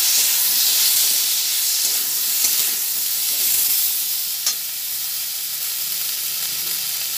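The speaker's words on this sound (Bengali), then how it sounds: "ভালোভাবে একটু নাড়াচাড়া করে দিই।" Potatoes with a little chili sauce sizzle steadily in a pan as they are stirred, giving a continuous close hiss with a few faint scrapes, and no voices.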